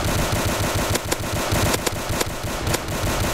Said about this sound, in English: Classic deafening pistol noise.